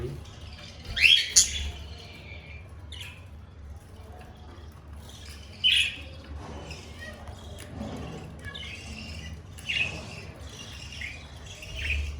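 Budgerigars in a small bird farm give scattered chirps and sharp squawks in short bursts, a few seconds apart, over a quiet low hum.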